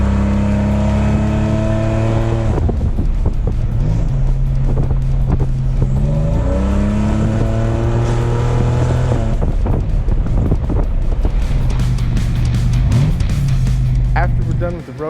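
A 1987 Buick Grand National on a road test after a build gives a loud, steady engine drone with rising and falling pitch as it accelerates and shifts, with wind rush throughout.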